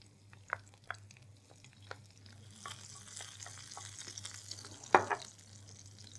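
Garlic sizzles and crackles in hot oil, a steady frying hiss with scattered pops and a sharper spatter near the end, close by, with no talking.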